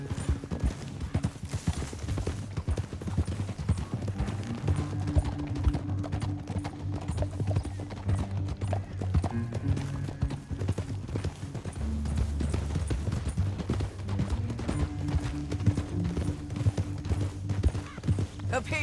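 Horse hooves clip-clop steadily through a Red Dead Redemption 2 ride toward a canyon, a continuous drumming rhythm under game music, with a faint whinny.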